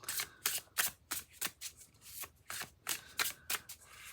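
Tarot cards being shuffled by hand, a series of crisp riffling bursts in an uneven rhythm, close and clear with short pauses between each shuffle.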